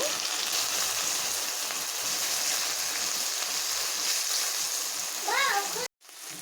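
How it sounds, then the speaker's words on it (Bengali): Shredded taro root strips fry in hot oil with an even, hissing bubble. A short tonal voice-like sound rises near the end just before a brief dropout. "অল্প অল্প করে দিয়ে এগুলোকে এইভাবে আমি ভেজে নেব"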